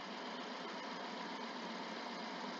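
A 2009 Suzuki Jimny engine, low on power and running rich, idles steadily, a constant broadband rumble with no pauses or changes in pitch, fairly loud and close.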